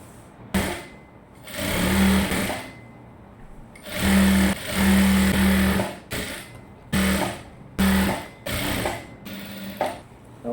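A sewing machine runs in repeated bursts of stitching, some short and some longer, as it sews folded main fabric on a short gown, loud and close with pauses between runs.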